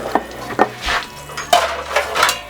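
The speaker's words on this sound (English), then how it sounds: "He's mashing it on top of the table this time." A ribeye steak is pounded flat on a tabletop, giving a series of irregular dull thuds and knocks with some clattering, close by and without talk.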